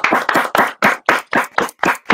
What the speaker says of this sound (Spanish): Yo digo bienvenido y termina el O y se aplaude.